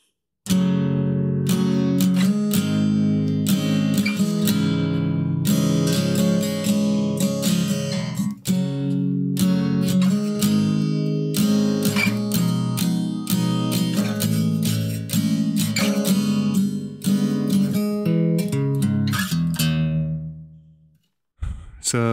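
Acoustic guitar strums the pre-chorus chords of a song in a steady pattern, bright and close, ringing alone with a brief stop near the end.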